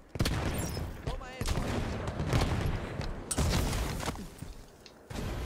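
Bursts of rapid gunfire from a Halo 5 match, sharp volleys and booming shots layered over continuous in-game clatter, with people talking throughout.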